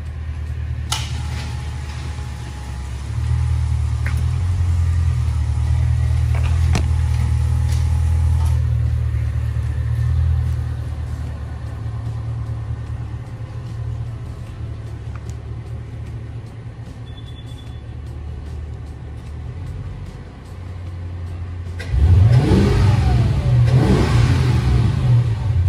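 A Mercedes CL55 Kompressor with a Eurocharged Stage 2 tune, pulley and longtube headers, revving in a deep, loud, rumbling drone that swells and falls, with a sharper burst of throttle near the end.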